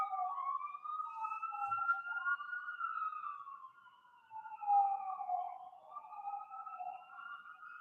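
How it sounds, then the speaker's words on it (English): Ambulance sirens wail in the distance, wavering two-tone sweeps that overlap and drift in loudness as they pass, with no talking over them. "Oh, here come the ambulances."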